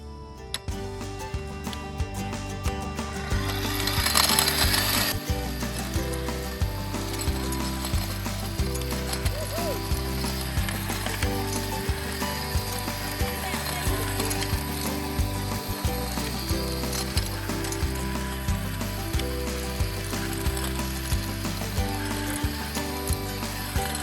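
A Ryobi cordless electric tiller runs continuously while tilling soil, giving a loud mechanical clatter with a fast, rhythmic grinding pulse and a brief louder burst early on, close by with no talk.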